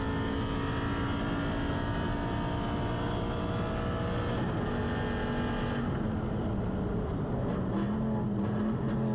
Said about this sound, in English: especially with the sound that Aston makes rumbling down these straights and around these corners